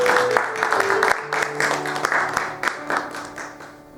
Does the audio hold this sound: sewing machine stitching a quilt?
no